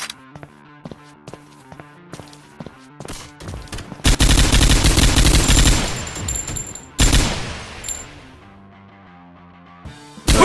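Gunfire in the Android game Counter Terrorist Shooting: a run of sharp, evenly spaced single shots, then a loud sustained burst of rapid automatic fire with crashing impacts, closing with scattered shots.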